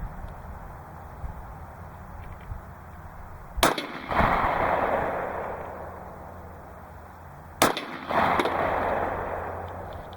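Two loud, sharp pistol gunshots, 9mm or .45 ACP, fired several seconds apart at an outdoor range, each a crisp crack followed by a rolling echo.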